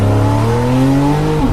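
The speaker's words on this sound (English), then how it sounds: "The new sound of the GTS is equally impressive. We believe the sports exhaust system with central tailpipes and increased idle speed is particularly well made and emotive." Loud, close engine and exhaust roar from a 2017 Porsche 911 GTS with its sports exhaust and central tailpipes, the pitch climbing steadily under acceleration and dropping away sharply at the very end.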